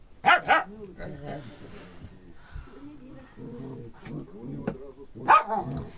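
A young dog barks in sharp, high bursts at the start and end, with whimpering, yipping sounds between and people talking quietly in the background.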